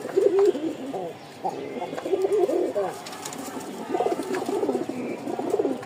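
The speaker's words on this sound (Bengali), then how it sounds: "দেখেন নরের ডাকটা, এইসব নর আসলে খুঁজে পাওয়া খুব কঠিন।" A male pigeon of a breed kept and sold for eggs coos close up in repeated throaty, rolling phrases, with a soft background hum between calls.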